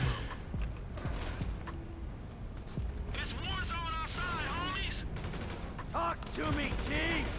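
Bursts of gunfire in GTA 5, sharp shots scattered amid a busy, noisy game mix while someone talks and exclaims over it.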